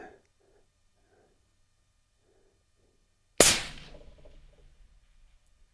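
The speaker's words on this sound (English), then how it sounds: "I'm going to shoot the silhouette to the right." A single sharp AB Raptor rifle shot fired at a silhouette target on a range, one loud crack that decays for about two seconds, with a faint voice early on and quiet otherwise.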